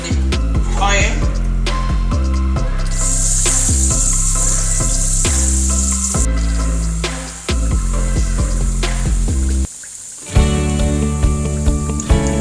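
Bean cake (akara) batter frying in hot oil: a loud, steady sizzle with crackling runs throughout, under a background of music and a few clatters, with a brief drop near the end.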